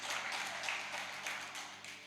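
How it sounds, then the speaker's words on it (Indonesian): A church congregation applauds, a dense, even wash of clapping from a large crowd that holds steady for about two seconds with no voices over it. "tepuk tangan buat Tuhan"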